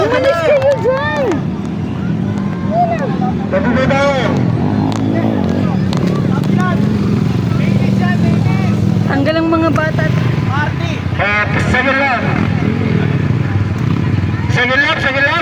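Dirt bikes roar past at a motocross event in a continuous rumbling engine din, largely buried under a dense crowd shouting and talking nearby.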